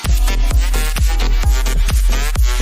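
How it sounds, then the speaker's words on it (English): Melbourne bounce club music pounds loudly in a party club on Boracay, with a driving four-on-the-floor kick about every half second under bright bouncy synth leads. "they play mostly Melbourne bounce type of music. It sounds like this."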